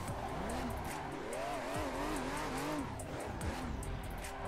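A car drifts around a track in a racing video game, tires squealing in long wavering bursts over a constant roaring engine.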